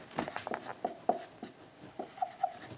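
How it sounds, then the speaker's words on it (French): Writing on a board during a French math lesson on logarithm equations: close, quiet scratchy strokes and small taps in quick irregular bursts, with occasional faint squeaks, no talking. "on va tout écrire"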